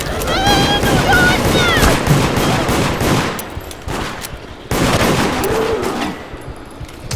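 Rapid gunfire in the video game Deceit: loud, close bursts of repeated shots, with a player's voice heard over the first few seconds.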